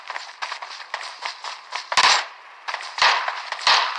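Gunfire in the video game PUBG, a quick string of dry, crackling shots with a few louder, heavier bursts near the end, fairly loud and close, with no talking.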